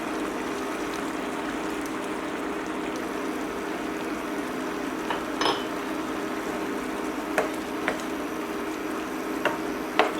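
Soya protein curry with green chillies and garam masala is stirred in a pan, a steady low sizzle and simmer with a few scattered soft clinks and scrapes of a spoon, no talking.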